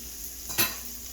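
Butter is stirred into potatoes in a hot pan, a steady soft sizzle with one brief scrape of the utensil partway through, close and moderately quiet.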